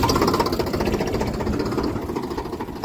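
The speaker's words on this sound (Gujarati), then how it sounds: "જો કલ્પેશ ટ્રેક્ટર લઈને આવી ગયો" A tractor engine runs in a farm field with a steady, close, rumbling drone and a slight knocking pulse, holding evenly from start to finish with no talk over it.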